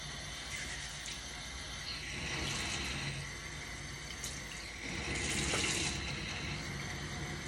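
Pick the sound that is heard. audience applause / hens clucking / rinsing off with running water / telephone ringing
rinsing off with running water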